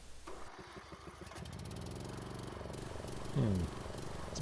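A barn-find riding mower engine restarts and settles into a steady, loud mid-pitched idle with a rough, slightly surging throb, nearby and alone.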